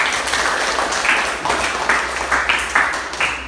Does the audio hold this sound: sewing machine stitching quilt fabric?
no